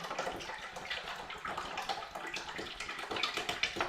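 Water runs steadily from a tap to fill a container, a continuous hissing splash that stays fairly faint and even throughout.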